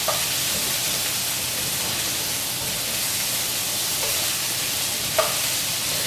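Garlic fries in a pan while being stirred, a loud continuous sizzle and hiss with occasional scraping clicks from the utensil, heard close up without any talking.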